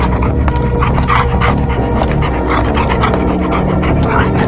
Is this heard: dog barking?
yes